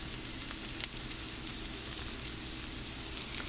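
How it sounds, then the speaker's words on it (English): Chopped garlic sizzles in a pan over a high flame, a steady close crackling fry with fine spitting pops and no voices. "start adding the chopped garlic to the pan"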